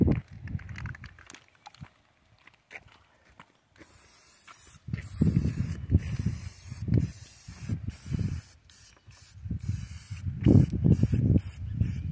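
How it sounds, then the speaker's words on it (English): Bursts of aerosol spray paint hissing onto milk crates, separated by pauses and rattling can noises, close and moderately loud. "we're just spray painting these different colors"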